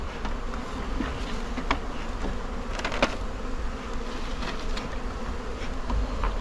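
A dense, steady buzzing of a honeybee swarm fills the air continuously, with individual bees droning past close by and occasional faint clicks.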